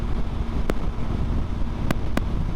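Continuous rough 20 to 30 mile per hour crosswind buffets the microphone on a motorcycle ride, a dense broadband roar with a few sharp clicks and knocks.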